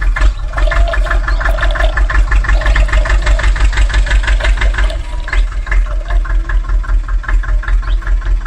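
Mini tractor engine running at idle nearby, a loud, steady rhythmic chugging and knocking pulse that continues alone without talk.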